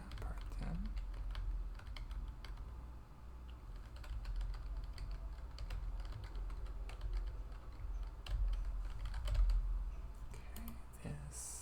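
Soft typing on a computer keyboard at a hotel front desk, a steady run of quiet close key taps with no voice over it.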